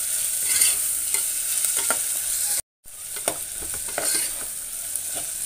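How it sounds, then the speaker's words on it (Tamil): Onions sauté in a hot pan while being stirred, giving a steady close sizzle with scraping spoon strokes over it and one very brief dropout in the middle. "நல்லா கலந்து விட்டுக்கோங்க. நல்லா வெங்காயம் நல்லா வதக்கட்டும்."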